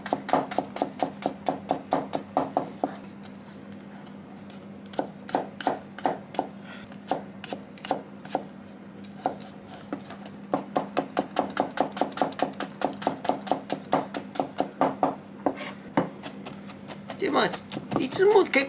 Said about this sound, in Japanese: まあみじん切りにしていきますね。